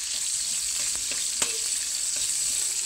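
Onion frying in a pan of hot oil, a steady close hiss with faint crackles and one brief clink, no talking.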